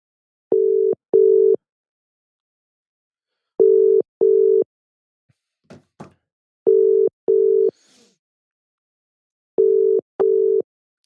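An outgoing telephone call rings out, with repeated paired ringback tones in an even, regular pattern separated by silences, loud and clear, with a few faint clicks between them.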